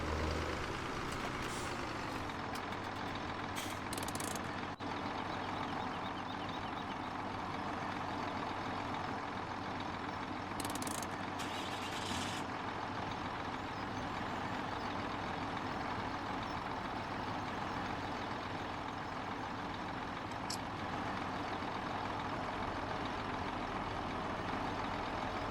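Truck driving in Farming Simulator 17 in a forest logging setting, a loud continuous engine drone with steady low rumble, punctuated by a few brief air-brake hisses, no voices.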